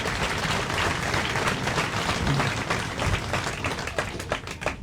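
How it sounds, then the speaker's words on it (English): A crowd applauds at the unveiling of a statue, giving dense, sustained clapping that stays loud and steady throughout, with a few sharper claps near the end. "would you give a round of applause to everyone involved for their valiant efforts"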